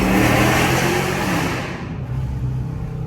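Chrysler 300 with a 5.7 Hemi V8 and a 180 thermostat tune, revving loudly during a downshift; a dense, roaring engine note that eases off and settles into a steady rumble near the end.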